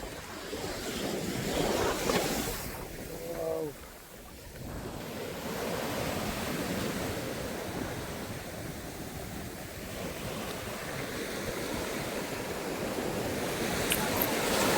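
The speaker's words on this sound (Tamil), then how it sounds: "கடல் அலை அழகாக இருக்குது" Sea waves breaking on a beach at midday, a steady loud wash of surf rolling in continuously, heavy with wind buffeting the microphone and broken by a brief lull partway through.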